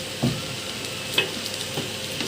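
Fried rice being stirred in a pan over high heat, a steady close sizzle broken by a few sharp scrapes and taps of the spatula.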